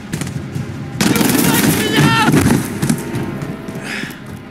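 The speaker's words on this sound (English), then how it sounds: "The gunshots, of course." Video game gunfire in the war game Chronicle of War: a burst of rapid shots and thumps erupts after a quieter opening, loud and close, then tails off under fainter background sound.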